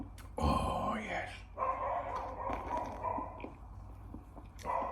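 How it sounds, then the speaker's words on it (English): A dog barks outside, heard distantly through a room, with a few sharp yaps breaking through a steady murmur of background noise. "There's a dog out there been barking for about an hour."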